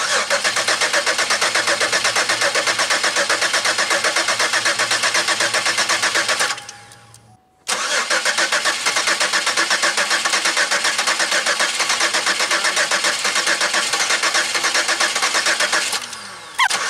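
A Pontiac Aztek that has not run since February cranks, catches and runs with a steady close engine drone. It cuts out briefly, restarts and keeps running, then drops off near the end.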